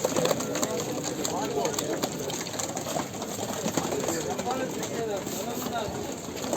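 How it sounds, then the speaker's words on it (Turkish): Soft pigeon cooing and scattered bird calls at the Edirnekapı bird market in Istanbul, a busy, noisy setting, with people talking nearby and a steady hum underneath. "Evet arkadaşlar güzel kuşlar var."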